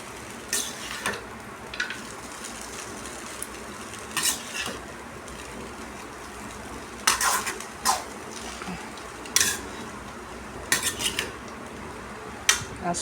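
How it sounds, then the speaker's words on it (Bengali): Food being stirred in a pan after salt is added over a low flame, a metal spoon scraping and clinking against the pan in irregular bursts over a soft background hiss. "লবণ দেওয়ার পর একটু নেড়ে নিই।"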